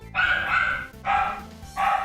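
A dog barks loudly and close by in three strong bursts, each a rough harmonic bark or yip, separated by brief pauses.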